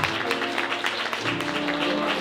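Wedding guests applaud during the ceremony, steady dense clapping over sustained background music for the whole stretch.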